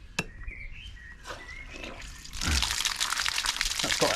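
Water rushes through heating system pipes being flushed at the bath: after a few faint knocks and gurgles, a steady loud hissing flow starts midway and continues to the end.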